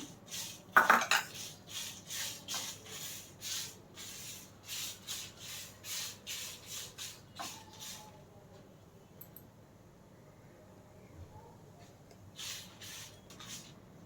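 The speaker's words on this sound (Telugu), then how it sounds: "బాగా వేగాలండి మిరగాయలు కరివేపాకు ఇవన్నీ వేయించుకోవాలి" Chillies, curry leaves and coriander seeds roasting in a dry pan while being stirred: a steady, faint rhythmic scraping and rustling of a spoon against the pan, pausing briefly before resuming.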